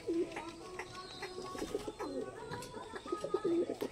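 Fancy pigeons coo in a village breeding loft in Namkhana, South 24 Parganas, with several close, repeated throaty coos and some soft background noise.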